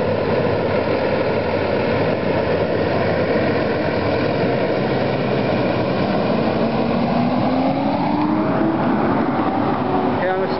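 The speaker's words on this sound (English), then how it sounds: "Oh, here comes the other truck." A fire department truck approaches, its low engine rumbling steadily with a rising tone toward the end, while people talk over it throughout.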